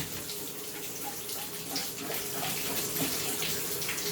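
Tap water streams and splashes steadily into a sink while a Bissell PowerForce Compact vacuum's filter caddy is rinsed under it, a soft continuous gush with small shifting splatters, close by and fairly quiet.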